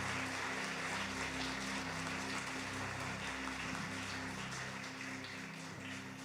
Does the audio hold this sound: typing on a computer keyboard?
no